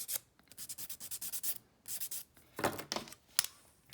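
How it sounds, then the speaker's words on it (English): Nail file rubbing along the edges of dip powder nails in quick rasping strokes, close and soft, with a brief pause partway through before the filing resumes. "I can go back in and kind of detail it up with the file"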